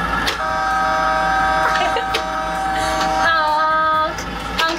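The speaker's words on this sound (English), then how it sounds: "Let's honk the horn." A toy front loader sounds its horn in a few steady electronic honks, loud and close, with a whirring mechanical background.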